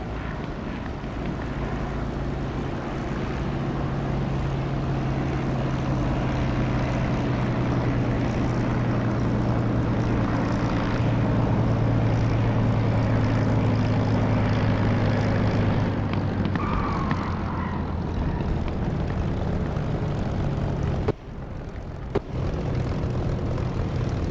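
Aircraft engine in the flight simulator DCS, a loud steady drone with a sustained tonal whine that holds for most of the stretch, then briefly cuts and returns near the end.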